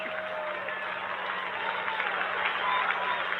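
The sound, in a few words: golf crowd laughing and applauding a shot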